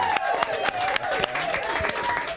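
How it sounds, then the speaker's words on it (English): An audience claps enthusiastically, with dense applause and a few cheers under a faint voice. "Let's have a round of applause for Javel."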